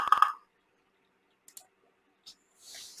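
A computer mouse clicks twice in quick succession, crisp and close, then there are a few faint isolated ticks and a soft rustle in an otherwise quiet room.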